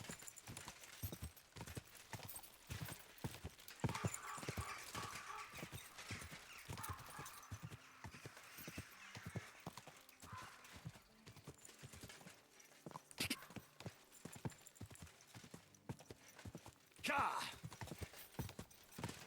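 Horse hooves clip-clop steadily along a path in Kingdom Come: Deliverance 2, a brisk repeating beat of close, loud steps with a brief whinny-like burst near the end while someone talks over it.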